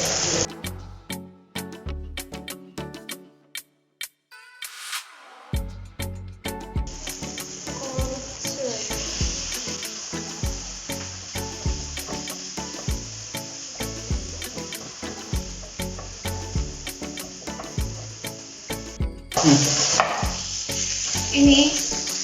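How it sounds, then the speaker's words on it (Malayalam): Garam masala and turmeric sizzle steadily in a hot pan for kothu porotta, a bright continuous frying hiss with sharp clatters and scraping stirs throughout, close and fairly loud. "ഇതും കൂടി സോട്ട് ചെയ്യാം."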